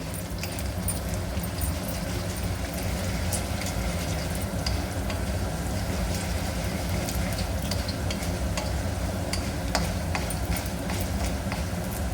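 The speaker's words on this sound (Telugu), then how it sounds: "వేసేసి కలపాలండి మంచిగా కొంచెం ఫ్రై కావాలి ఇవన్నీ" Ingredients including chana dal fry in a pan for mango pickle rice (avakaya pulihora), with a steady, dense sizzle and scattered ticks of stirring throughout, continuous and fairly loud, without talk.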